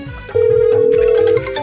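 A mobile phone rings with one loud, sustained electronic tone lasting about a second, with no talk over it.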